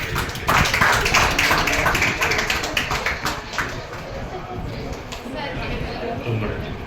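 Audience clapping at a Tamil international seminar, a dense steady patter of many hands that swells then eases slightly, mixed with crowd noise and some talk.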